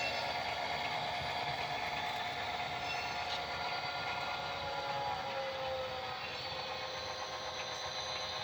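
A steady, faint mechanical whir and clicking rattle of an HO scale model train with an eight-car string of empty cars running continuously on the layout track, with no talking.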